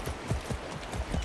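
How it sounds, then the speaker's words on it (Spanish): Horse hooves clip-clop in the video game Far Cry 6, a steady run of low, close thuds. "Andando a caballo."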